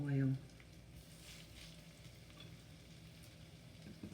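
Chicken fingers fry in hot oil in a pan with a soft, steady sizzle and faint crackle, close and continuous, after a short low hum at the start.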